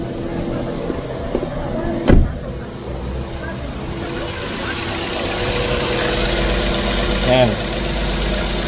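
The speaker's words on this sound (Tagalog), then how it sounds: "So mapapansin niyo kung narinig niyo, no, meron parang may hissing sound. So yun yung hanapin nyo pagka may vacuum leak." Car engine idling high at about 3,000 RPM with a vacuum leak, a steady engine drone carrying a faint hiss, with a sharp thump early on and a person speaking briefly.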